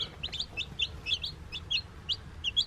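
Newly hatched chicks, including black Silkies, peeping in a rapid, high, chirping chorus of short overlapping calls, close and fairly quiet over a low background rumble.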